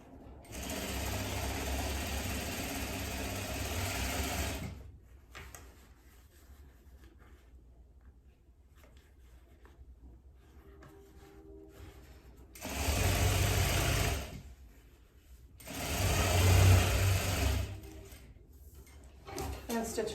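Sewing machine stitching across the bottom of a corset busk, with a back-stitch and a turn at the corner, in three close bursts of fast motor whir separated by quieter pauses where a person talks.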